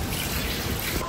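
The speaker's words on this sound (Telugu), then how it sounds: "నీళ్ళు కూడా స్ట్రైట్గా పోయాలి." Water poured straight into a pot while chicken is being cooked, a steady, even rush of splashing liquid lasting about a second, close and fairly quiet, with no voices over it.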